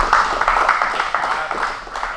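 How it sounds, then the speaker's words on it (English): Applause at a Muay Thai gym promotion ceremony, a steady wash of clapping from a small crowd, close and fairly loud, with background chatter mixed in. "So give Josh a round of applause."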